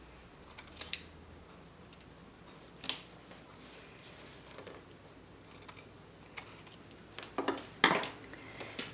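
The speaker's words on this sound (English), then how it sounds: "I'm going to the right of that seam to just trim away that excess on the corners there" Scissors snip away excess fabric at the corners of a small sewn knitting bag, a few quiet, sharp cuts spaced apart over a hushed background.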